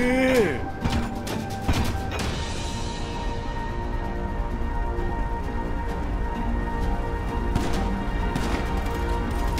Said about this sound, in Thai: เออเสียงปืนมันต้องอย่างนี้